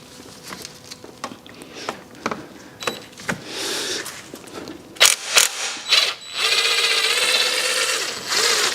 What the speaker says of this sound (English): That's the bolt removed.